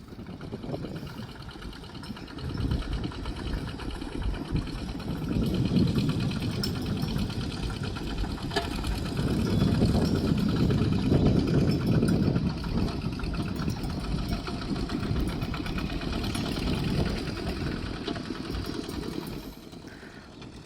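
Two tractors plowing a rice field make a continuous, moderately loud diesel engine drone with a knocking, chugging rhythm that swells and fades over the stretch.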